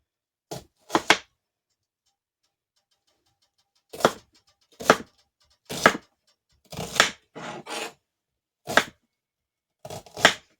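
Onion being chopped with a knife on a board, about a dozen sharp close knocks in small uneven bursts separated by long silent gaps.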